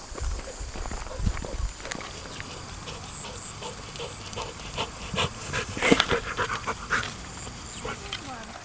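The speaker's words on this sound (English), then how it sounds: "Dogs!" Dogs pant and shuffle close by on an outdoor walk in Thailand, soft rhythmic breathing mixed with footsteps and rustling, while a person talks over it.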